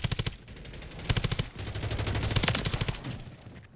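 A Kastov LSW light machine gun fires in Modern Warfare 3, with rapid automatic bursts close and loud, a short pause, then a longer sustained string of rounds that tapers off near the end.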